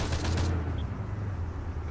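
A tank's gunner fires a machine gun at infantry in the ARMA 3 video game: a dense rattling burst of rapid gunfire for the first half second, then a steady low engine rumble carrying on alone.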